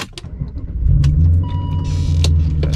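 A BMW E39 M5 sits running with a low, steady engine rumble and a faint whine from the power steering pump, swelling after a second and holding close and clear, with small clicks and no voices.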